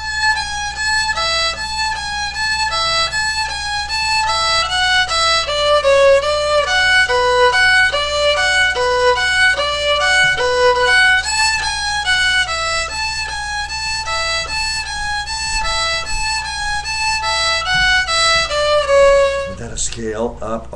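The fiddle tune Devil's Dream is played slowly in double stops on a stringed instrument, with a steady run of clear, bright two-note chords lasting about twenty seconds and no talking.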